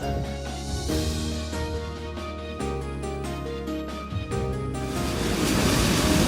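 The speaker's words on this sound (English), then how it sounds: "This is a river Salz. It flows through Salzburg" The Salzach river flowing through Salzburg, Austria: a steady, broad rush of moving water with wind-like noise, close and fairly loud, no voices.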